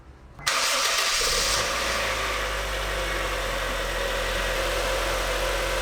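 After a sharp starter whir, a 5-speed Honda Fit's engine catches and settles into a steady, even idle, heard up close and alone.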